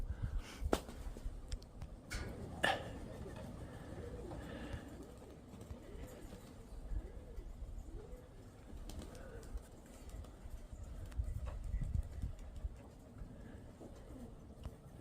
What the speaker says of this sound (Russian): Маленькая голубятка.